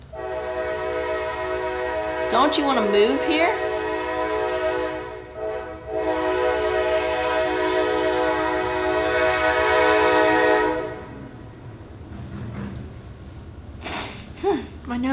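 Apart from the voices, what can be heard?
train passing with horn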